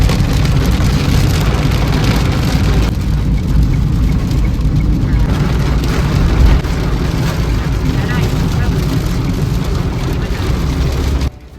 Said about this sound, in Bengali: এই দেখুন কি মুষলধারে বৃষ্টি শুরু হয়ে গেছে